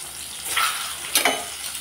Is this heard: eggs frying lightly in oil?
yes